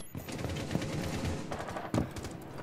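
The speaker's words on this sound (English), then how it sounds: "You shoot a yellow shotgun." Video game shotgun fire, a few sharp distant reports over a busy, fairly quiet background of game noise, with two clearer cracks standing out near the middle and end.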